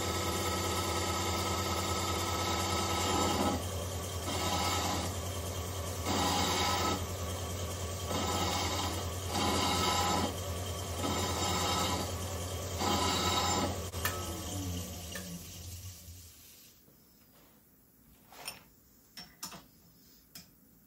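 A grinder works on old V8 engine parts for a 318 rebuild, its steady whirring hum pulsing in a regular ticking rhythm before winding down and stopping, leaving a few faint clicks near the end.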